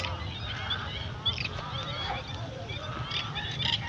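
Many geese honk and call together in a steady chorus at a drained fish pond where they feed, fairly distant, over heavy low rumbling background noise.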